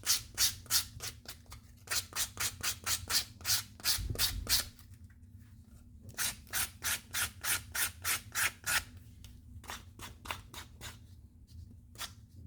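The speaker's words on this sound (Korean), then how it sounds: "거친 사포를 이용해서" Leather edge of a luxury wallet being sanded by hand with coarse 200-grit sandpaper, a steady run of rapid, close rasping strokes in bursts with short pauses between.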